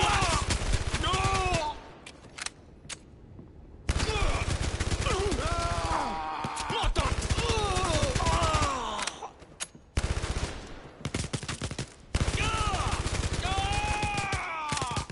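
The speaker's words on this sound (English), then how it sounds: "That guy's just shooting into a wall." Rapid bursts of gunfire in the PSVR shooter Blood & Truth, loud and close, broken by short pauses, with a voice talking over parts of the shooting.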